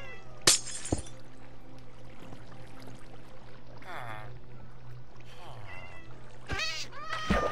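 Cat meows from the Minecraft video game, several short high calls scattered over a steady hum of in-game ambience, with a crisp break or shatter sound near the start.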